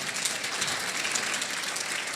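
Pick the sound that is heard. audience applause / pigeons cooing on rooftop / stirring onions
audience applause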